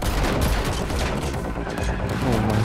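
Rapid sustained gunfire aimed at car tyres in The Matrix Awakens on PS5, a dense continuous burst of loud shots with booming impacts, close and unbroken across the whole stretch.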